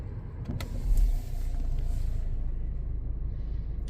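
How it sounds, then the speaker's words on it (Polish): A Peugeot 508 SW 2.0 BlueHDi diesel starts with a brief starter whir and catch, then settles into a steady low idle close by. "oczywiście dwa kluczyki i go uruchomimy"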